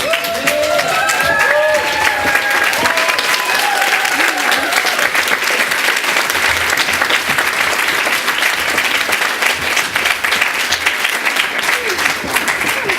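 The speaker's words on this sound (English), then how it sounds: "please give a round of applause to our graduating class of" Sustained audience applause for the 2018 graduating class at a graduation ceremony, a dense, steady wall of clapping from a large crowd lasting throughout, with a few scattered whoops near the start.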